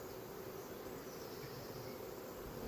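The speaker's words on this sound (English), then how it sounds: "now I have a trapped nuke full of bees" Honey bees sealed inside a trapped nuc hive during an emergency June split, giving off a steady, dense buzzing drone that holds evenly without a break.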